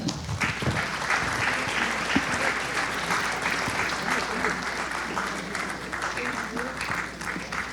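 Audience at a children's annual day event gives a steady round of applause, dense continuous clapping at moderate level, heard somewhat distant in a hall for the full span.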